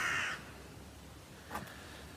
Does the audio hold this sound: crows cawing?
yes